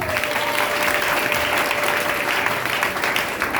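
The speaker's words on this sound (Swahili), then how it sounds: "Pigie Yesu makofi mazuri" A church congregation applauds with steady, loud clapping that runs evenly for several seconds.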